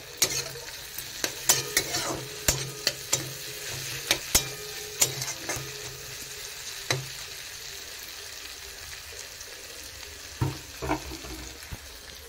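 Capsicum, onion, ginger and garlic stir-fry in a pan with a steady sizzle, broken by repeated sharp scrapes and clatters of a spatula stirring, most frequent early and sparser later.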